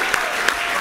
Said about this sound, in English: Can we first give the Crazy Monkeys a big round of applause for inviting us?